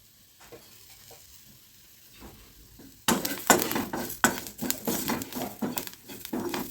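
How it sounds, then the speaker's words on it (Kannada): Curry leaves and cumin seeds dropped into hot oil in a pan, starting with a quiet low hiss, then bursting into loud, close crackling and sputtering with sharp pops that keep going, no talking. "ಕರಿಬೇವು ಹಾಕ್ಕೊಂಡು ಸ್ವಲ್ಪ ಫ್ರೈ ಮಾಡಿಕೊಂಡು"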